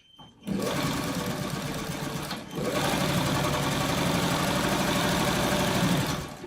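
A sewing machine runs steadily while stitching freeform quilt blocks, its motor whirring close and loud after a brief start, pausing for a moment near the middle and then resuming in a long continuous run.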